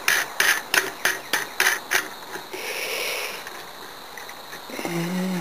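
Clamps on a sieve shaker being tightened down, a run of about eight sharp, evenly spaced ratcheting clicks, then a soft grinding scrape and a brief rising squeak.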